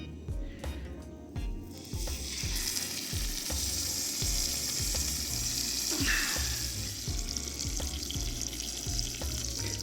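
Tesco steak searing in a red-hot pan with garlic and butter, a loud, steady sizzle and crackle with rhythmic low thumps and spattering throughout, close up and with no talk.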